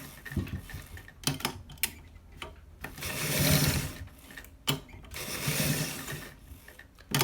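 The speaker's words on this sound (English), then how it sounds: "I am done stitching it, but we have to what, stitch it twice" A sewing machine stitches a shirt collar in several close, whirring bursts of quick needle clatter, separated by short pauses and sharp clicks.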